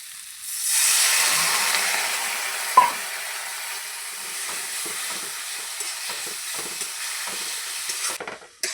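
A spice paste sizzles and hisses steadily in a hot pan after a splash of water, joined by scattered soft scrapes and taps of stirring. The cooking sounds close and fairly loud, and the sizzle eases toward the end, with no voices.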